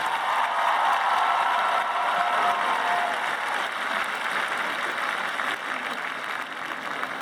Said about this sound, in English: I want the graduates to clap and thank the folks who helped get you here today